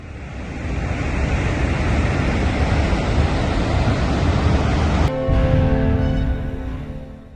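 Floodwater released from a dam rushes down the Teesta River in Sikkim, India, as a loud, steady roar that cuts abruptly after about five seconds to a thinner rush with a faint hum.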